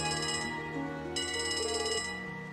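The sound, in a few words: phone ringing in the video game Trails to Azure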